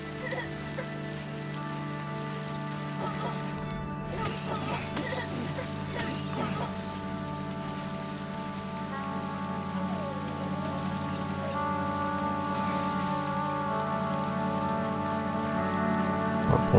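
Steady rain patters and hisses in the video game Death Stranding, continuous and even throughout, layered over sustained tonal ambient drones with a few faint mechanical clicks.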